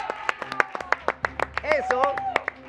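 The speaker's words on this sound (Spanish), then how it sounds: "Aplausos, por favor." Scattered studio audience clapping on a Mexican TV cooking contest set, sharp irregular hand claps mixed with cheerful voices and shouts over a low hum.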